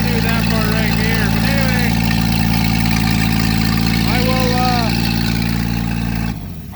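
An AMC car engine idles with a loud exhaust manifold leak, giving a steady, droning rumble held close and constant until it cuts off near the end, with a voice speaking and singing over it.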